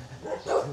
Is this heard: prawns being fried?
no